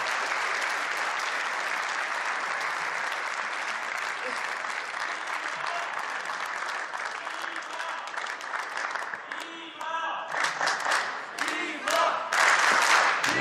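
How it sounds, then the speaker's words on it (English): A large table tennis crowd at the Polish Open applauds and cheers continuously, with claps and shouts swelling louder toward the end. "Crowd getting behind Dima, the European fans here in Poland."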